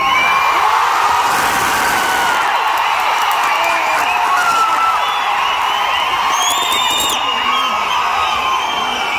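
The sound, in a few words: theatre audience roaring, cheering and whistling at Leo film screening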